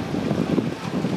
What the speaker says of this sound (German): denn es ist sehr windig, aber trotzdem warm